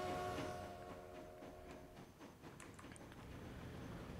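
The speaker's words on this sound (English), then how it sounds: "we will follow the train" A train runs in the video game Transport Fever 2, a faint steady rumble with light rhythmic rail clatter, and a brief tonal hum at the start.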